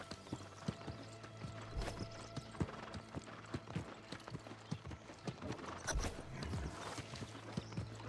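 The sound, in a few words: horse hooves clip-clopping, from a video game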